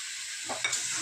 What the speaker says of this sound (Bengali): এবার দেখুন আমি মটরশুঁটিটা দিয়ে দেবো এর মধ্যে